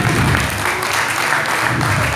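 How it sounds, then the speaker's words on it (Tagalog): Loud, sustained applause from a church congregation praising the Lord, a dense steady wash of clapping filling the whole moment with no break. "Isang malakas uli na palakpak sa Panginoon."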